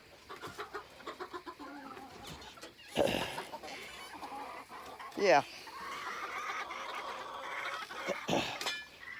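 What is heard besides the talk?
chickens clucking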